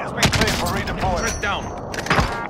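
Gunfire from a battle-royale fight in the Warzone video game: rapid bursts of shots and thuds crackle across the clip, mixed with game effects, while a player talks over them.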